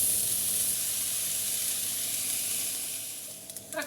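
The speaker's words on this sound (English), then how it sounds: "we're going to fry off our onions for 2 to 3 minutes" Onions fry in a frying pan with a loud, steady sizzle close up, easing slightly at the end with a few faint clinks.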